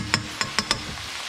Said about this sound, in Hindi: अब हम इसको अच्छी तरीके से मिक्स करेंगे।